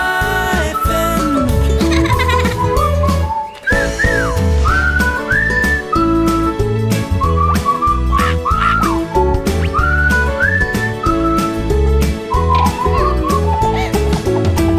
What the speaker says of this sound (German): Pfeifen, das glückliche Frettchen pfeift gut.